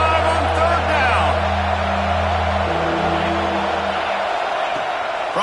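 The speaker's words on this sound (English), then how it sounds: "the Buckeye crowd alive on 3rd down" A steady stadium crowd roar from the Ohio State Buckeyes home crowd on third down in College Football 26, a constant wash of noise mixed with band music and continuous talk.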